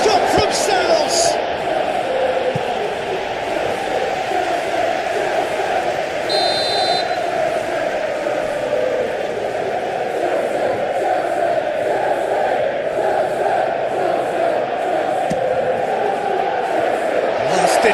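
A stadium crowd roars and cheers in the PES 2021 football video game during a Chelsea vs Nottingham Forest match, a continuous loud swell of voices with a short buzzer-like tone early on, under ongoing commentary.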